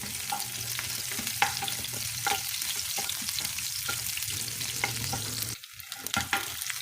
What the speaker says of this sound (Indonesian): Tiga siung bawang merah. Kita tumis dulu sampai wangi.